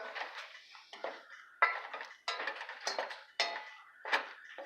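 Corn being stirred in a cooking pot, giving a series of close metallic scrapes and clinks from a spoon against the pot in short irregular bursts.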